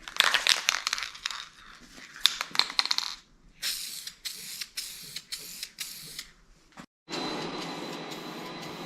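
Paint spraying for a third coat on a car in a workshop, heard as a loud hissing spray in repeated bursts with short pauses, the last long burst running steadily until the end.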